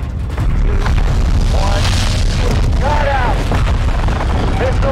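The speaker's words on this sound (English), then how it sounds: "Missile is ready for immediate delivery. Stand by for launch." Missile launch in the Call of Duty Modern Warfare 2 campaign, a loud continuous deep booming roar filling the whole stretch, with a voice talking over it.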